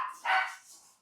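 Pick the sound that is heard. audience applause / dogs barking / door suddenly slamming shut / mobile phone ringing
dogs barking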